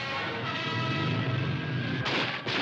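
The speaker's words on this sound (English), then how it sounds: "Da peitschen die ersten Schüsse durch die Straßen" Gunshots cracking through city streets during a workers' uprising against tanks in 1953, a few sharp reports over a steady noisy background, with a bright burst near the end.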